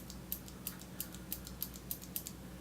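Keys on a Xenix Optical V2 waterproof optical-switch mechanical gaming keyboard click at a steady, even pace, seven crisp presses in a row, faint and close against a quiet background hum.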